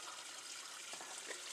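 Water flows into a secondary sediment catchment feeding a ram pump, a soft, continuous, faint rushing trickle with no voices.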